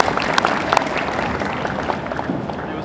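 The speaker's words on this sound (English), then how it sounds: "Let's give her a round of applause." Loud, dense audience applause fills the room at an expo panel during Armageddon Expo 2015 in Christchurch, a continuous roar of many hands clapping with scattered sharper claps and crowd noise.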